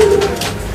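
A small pigeon gives one short, clear coo right at the start, close and fairly loud, then only soft background noise remains.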